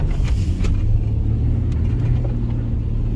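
A 1996 Jeep Cherokee XJ engine drones at steady high revs, held wide open while driving through a foot of deep snow in two-wheel drive, a continuous loud rumble with faint scraping, and no talking.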